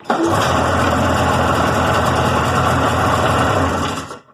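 A Polaris snowmobile two-stroke engine idles steadily up close during an idle adjustment, a constant buzzing drone that runs the whole time and then cuts off abruptly at the end.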